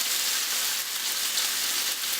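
Steady, loud sizzling of small steak pieces frying in hot oil, a dense crackling hiss that continues without pause and without any talking.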